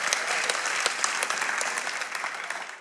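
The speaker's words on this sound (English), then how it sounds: "That's not a good clap." Church congregation clapping in a large hall, a dense, even burst of many hands heard at moderate distance, sustained and fairly loud throughout.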